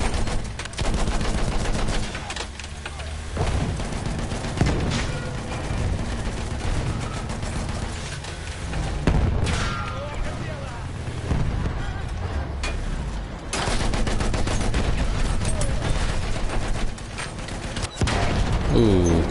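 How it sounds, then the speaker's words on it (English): Sustained gunfire in Battlefield 1 pours into houses in long, loud bursts of rapid shots with sharp cracks and heavy booms, briefly easing before picking up again, with some talk heard underneath. "I'm gonna shoot at these houses because I can."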